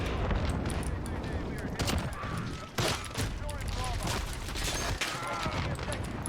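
The Odin rifle in a shooter video game fires in dense, rapid bursts, a continuous loud gunfire barrage with brief pauses, heard close with a voice talking over it.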